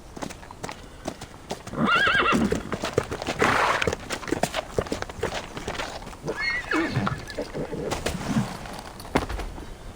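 Horses in an audio drama whinny loudly twice while hooves clip-clop steadily close by, and faint birds coo in the background.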